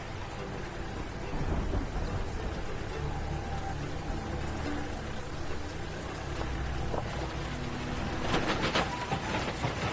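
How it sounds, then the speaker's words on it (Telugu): Heavy rain beats down in a dense, continuous roar while deep rolls of thunder rumble underneath, with no clear voices over the storm. "బాగా వర్షం పడుతోంది."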